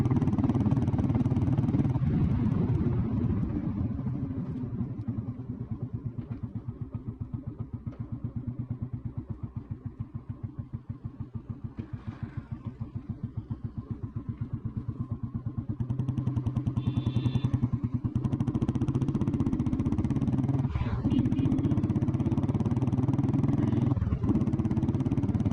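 An old Royal Enfield Bullet motorcycle runs steadily close by, its engine thumping in an even, rapid rhythm throughout with a faint clatter, and no voices.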